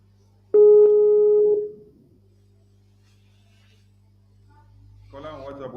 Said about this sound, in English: I missed a call from this caller on WhatsApp. Caller, I'm calling you back.